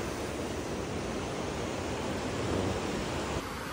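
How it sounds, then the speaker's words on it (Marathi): River water flows past a spot used for river rafting in Karjat, a steady broadband rush filling the whole short stretch, near and even, with no voices. "हे जे पाणी वाहत आहे यात रिव्हर राफ्टिंग पण होते."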